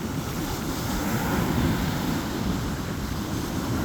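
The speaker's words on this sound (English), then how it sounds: "Looking out at the ocean waves." Ocean surf breaking on a beach, a steady broad roar of waves with wind noise buffeting the microphone, continuous and fairly loud with no voices.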